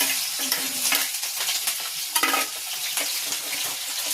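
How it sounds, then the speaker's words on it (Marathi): Chillies dropped into hot oil in a pan after roasting peanuts, a loud close sizzle and crackle with stirring scrapes and a sharper burst midway, steady throughout. "तेल टाकते. गरम झालंय, मिरची टाकते."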